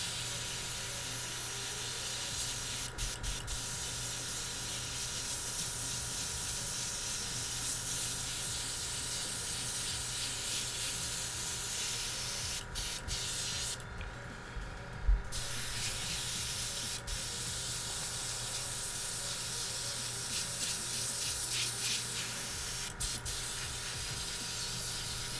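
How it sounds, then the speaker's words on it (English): An airbrush used for model painting hisses in a steady close spray that continues almost unbroken, with a short louder burst of air midway and a few faint clicks. "Got the airbrush cleaned out well enough for now."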